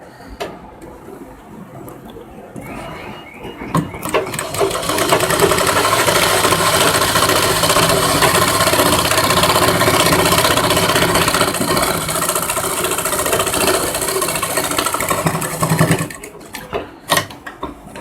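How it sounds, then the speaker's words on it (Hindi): A sewing machine runs steadily for about ten seconds, stitching along the far edge of a lace trim on a princess-cut lehenga blouse. The close, dense mechanical whir is framed by brief handling clicks and fabric shuffling before and after. "इस लेस के दूसरे छोर पे भी सिलाई लगा लेता हूँ यहाँ पे"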